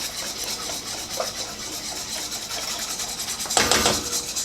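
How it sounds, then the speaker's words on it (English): A whisk scrapes steadily through vegetable molé sauce in a pot, giving a continuous close rasping rub with a brief louder clatter near the end, and no talking. "So I'm going to whisk this until everything's incorporated."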